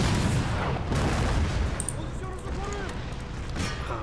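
Cannon fire in the video game Empire Total War, with repeated booming artillery shots and rumbling battle noise rolling under a commentator's voice throughout.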